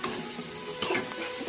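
Fish sizzles steadily in a hot frying pan for an oseng cashew-fruit dish, with a continuous crackling hiss and a brief stir partway through, close and alone.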